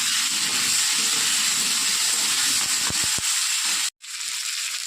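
Potato, pumpkin and green chilli fry in fish oil with black cumin, giving a loud, steady sizzle and hiss close by, a few clatters of stirring, and a brief drop to near silence before the sizzle resumes.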